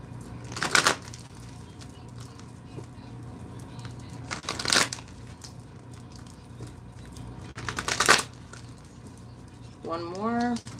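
Tarot cards riffle-shuffled in three separate bursts, each a brief crisp flutter of stiff cards with quiet gaps between, followed by a short voice at the end.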